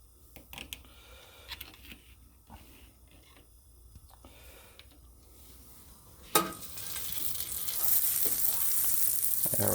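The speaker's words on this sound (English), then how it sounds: "as soon as you throw something on there, you can see it starts to sizzle" French toast hits a hot buttered pan with a sudden burst of frying, building into a steady, loud sizzle after a quieter stretch of faint kitchen clatter.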